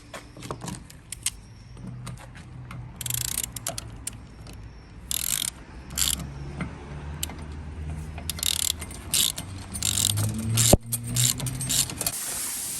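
A hand tool tightens something up with a run of rapid ratcheting clicks and metallic mechanical clatter, close and fairly loud, in bursts with brief pauses, with no talk.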